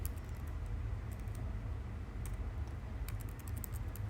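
Someone types a line of code into a webhook action in Odoo 17 on a computer keyboard, with faint, scattered key clicks over a steady low background hum and no talking.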